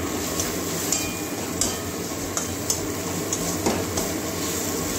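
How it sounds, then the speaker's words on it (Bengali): Ground cumin and coriander sizzle in a pan with oil for a Bengali potato curry, a steady frying hiss broken by the light clicks of a spoon stirring against the metal. "ভালো করে এটা মশলা ভেজে নেব"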